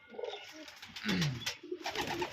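Pigeons coo softly in a hobby loft, a few overlapping low, rolling calls close by with light chirps and rustling around them, no talk.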